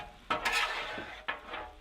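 Venison stir-fry is worked on a hot Blackstone griddle, two quick metallic scrapes of a spatula over a soft sizzling hiss, close and moderately loud.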